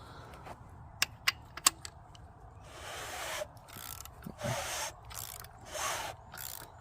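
The bottom end of a Chevy 406 small block engine, fitted with pistons, new rings, bearings and main caps, is turned over by hand, giving a few sharp ratcheting clicks followed by soft rhythmic whooshing turns, quiet and close.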